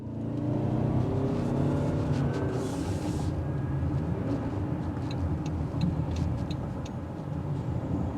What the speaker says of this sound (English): You will hear the exhaust filter in, but that's to be expected when you're hitting a higher RPM.